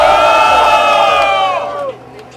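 Audience at a hip-hop freestyle rap battle erupts in loud, sustained cheering and shouting for about two seconds before dying down.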